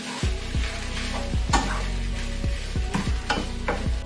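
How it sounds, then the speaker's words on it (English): Minced meat browning in a pan on a stovetop set to level 7, with a steady close sizzle and repeated scrapes of stirring, no voices. "as usual with minced meat, you know you have to brown it up"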